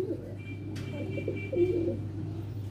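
Rampuri pigeon cooing nearby in a few soft, low rolling coos over a steady low background hum, with no talking.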